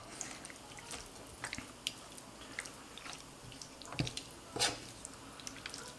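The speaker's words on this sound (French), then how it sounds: "on remue tout ça" Tikka masala sauce with cashews and half a cup of water being stirred in a pan: soft, wet squishing and dripping with a few sharper scrapes, quiet and irregular.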